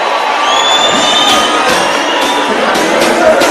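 A loud crowd at a Jubilee political rally in Kenya cheers and shouts continuously, with whistles and scattered whoops rising over the roar.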